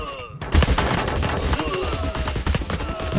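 Rapid volleys of gunfire from massed units in Totally Accurate Battle Simulator during a fortress siege, dense overlapping cracks and booms in a continuous loud barrage.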